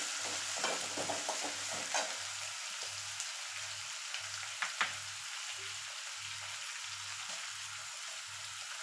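Tomatoes and garlic paste sizzle in a pan with a steady, bright frying hiss, while a spoon stirs through them in a regular rhythm of soft scrapes and taps. It is fairly close and quiet, with no voices.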